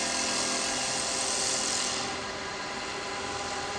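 A carbide chisel cuts across wood spinning on a lathe, giving a steady broadband rasping hiss that stays loud for two seconds and then eases to a slightly quieter continuous scrape.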